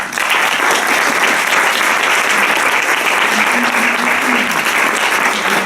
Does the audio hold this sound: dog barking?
no